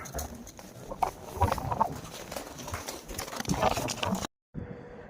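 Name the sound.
horses walking, hooves clip-clopping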